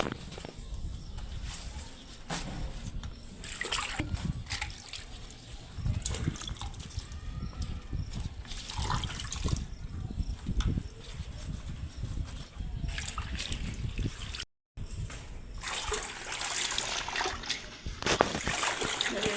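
Continuous splashing and sloshing of water with rustling as large colocasia leaves are handled and rinsed one by one, close by, with a brief gap midway.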